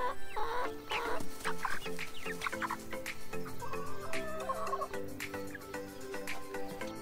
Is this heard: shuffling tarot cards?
no